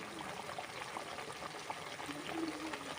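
Ghee poured over a bubbling potol (pointed gourd) curry topped with garam masala, a soft steady liquid trickle and simmer heard close and fairly quiet, with no talking.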